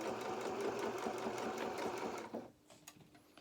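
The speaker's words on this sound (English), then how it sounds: "Let's just sew this all the way around." Sewing machine stitching around a small elastic baby or doll shoe, a steady close whirring run that stops abruptly near the end, leaving quiet room tone with a few light clicks.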